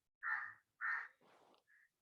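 A crow perched in a tree gives two loud, harsh caws followed by softer, rougher calls. No other sound is heard around the calls.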